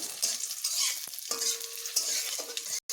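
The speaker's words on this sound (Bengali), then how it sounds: "কাঁচা লঙ্কা রসুন ও কালো জিরেগুলোকে একটু বেশ ভালোভাবে ভেজে নেব" Green chillies, garlic and black cumin fry in a pan, giving a close, lively sizzle with occasional scraping stirs and a brief tonal clink, ending in a short gap.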